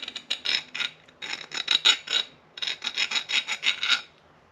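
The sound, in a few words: filing to soften sharp edges of milled handle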